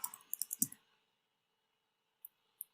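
Python code being typed on a computer keyboard: a quick burst of several close key clicks at the start, then silence and two isolated single keystrokes near the end.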